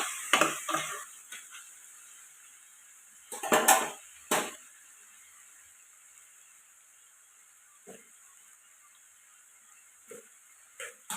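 A drumstick and cauliflower curry fries with a faint, steady high hiss, while sparse spoon-against-pan clanks come in short clusters early on and single knocks later.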